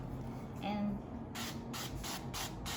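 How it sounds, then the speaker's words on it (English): Cooking oil sprayed lightly over the top of dough in a kitchen, a series of short hissing spray bursts following a quiet stretch with faint background hum. "just lightly spray the top of our guy there"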